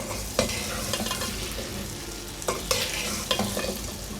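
Lasoora (gunda berries) fry gently in a pan of oil for pickle, giving a steady close sizzle broken by occasional knocks and scrapes of a stirring spoon, with no one speaking.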